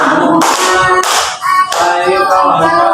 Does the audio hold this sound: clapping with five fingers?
yes